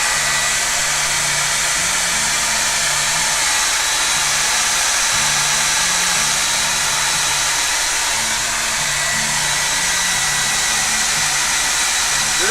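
A hair dryer blows steadily on a painted art journal page with a loud, constant whoosh that never changes, and a faint low tonal murmur sits beneath it.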